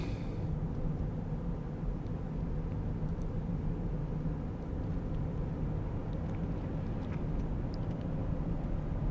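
Car driving slowly along a road in Norwich, Connecticut, a steady broadband road and engine rumble heard from inside the vehicle, even and continuous with a few faint ticks, no speech.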